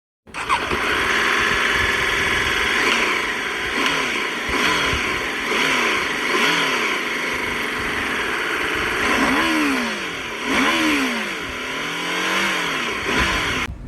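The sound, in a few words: motorcycle engine revving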